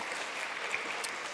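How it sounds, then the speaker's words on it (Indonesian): A church congregation gives a brief, faint, continuous patter of applause during a service. "Berikan tepuk tangan buat Tuhan yang luar biasa"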